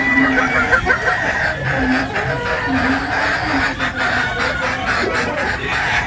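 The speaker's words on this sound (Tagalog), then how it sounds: "So ito po yung mga Boston Roundhead Pullet natin mga bossing." Boston Roundhead pullets in a pen cluck and call over one another nonstop, a loud, dense flock chorus close by with repeated rising squawks.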